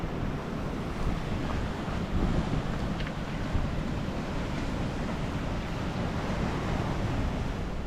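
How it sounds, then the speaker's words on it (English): Ocean waves wash against wet coastal rocks in a small rocky alcove at Red Head on the New South Wales coast. The surf makes a constant, close roar, with heavy wind buffeting the microphone throughout. "So you are literally right on the ocean here."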